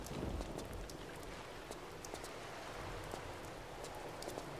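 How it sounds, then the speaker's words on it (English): Rain falls steadily in Tomb Raider: Chronicles, a soft continuous hiss dotted with scattered droplet ticks. It is faint and heard alone, with no talk. "Did it just start raining?"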